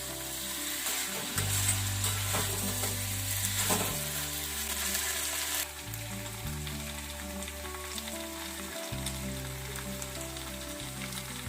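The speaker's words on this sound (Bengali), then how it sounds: "আমি আরেকটু ফ্লেমটা বাড়িয়ে ভাজা ভাজা করে নিচ্ছি, জলটা একদমই শুকিয়ে গেছে।" Small puti fish curry frying on a high flame in a pan, a continuous dense sizzle and crackle close up, steady throughout with a low hum beneath.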